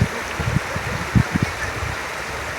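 Floodwater in a village river after heavy rain rushes past in a strong, steady current, a loud broadband roar with occasional low thumps and splashes close by.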